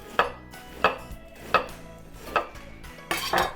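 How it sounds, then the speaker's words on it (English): A knife shreds lettuce on a board for a homemade Big Mac, five or six crisp close chops landing at roughly even intervals, ending in a denser flurry of cuts. "So just use our knife and just get some shredded lettuce just like that"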